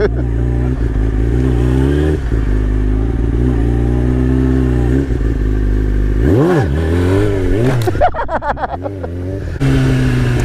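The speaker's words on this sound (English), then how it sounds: "Think I can get a wheelie off right here?" Yamaha R1 sportbike engine held at a loud steady drone, then revved hard in sharp rising and falling bursts with clattering during a wheelie attempt, close and dominant.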